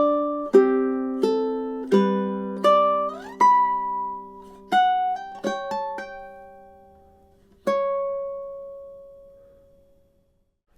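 Ukulele picking two measures of Tárrega's classical piece Adelita: a slow, clear melody of distinct plucked notes, each ringing and decaying, with a final note left to fade alone.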